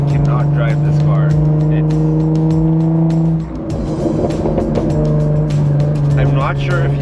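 Jaguar F-Type exhaust with the muffler deleted, a loud, steady droning engine note heard close from inside the car, with a brief dip midway and a person talking over it.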